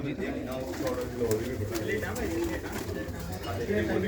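Pigeons coo at a home loft while someone talks over them, with low rolling coos steady throughout under the voice.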